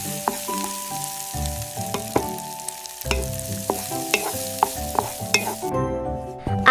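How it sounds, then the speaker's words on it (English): Food cooking in a pan, with repeated stirring scrapes and clinks of a utensil against the pan over a light sizzle, close and fairly loud, no talking. "I am cooking."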